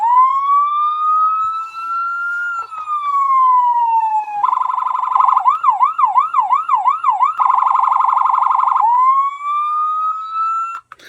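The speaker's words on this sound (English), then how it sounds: "definitely a nice loud siren for this one" A loud electronic police siren on a diecast model 1976 Ford Gran Torino cycles through wail, rapid yelp and back to wail, piercing and close with no talking.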